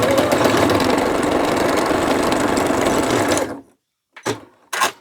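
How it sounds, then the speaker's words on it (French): Close and loud, a sewing machine stitches around a piece of fabric in one continuous run for over three seconds, then stops, followed by two short bursts of stitching. "Je positionne mon aiguille à peu près à 3 mm de ma ligne. Et donc, je vais venir piquer tout autour."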